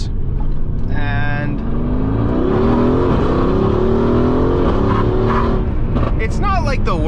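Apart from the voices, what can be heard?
widebody Mercedes-AMG car accelerating at full throttle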